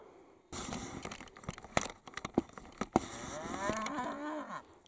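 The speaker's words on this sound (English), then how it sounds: "Cows come to see us here." Cows moo close by in a Yorkshire Dales field, a couple of loud, drawn-out lowing calls mixed with rustling and knocks, the last moo sliding downward at the end.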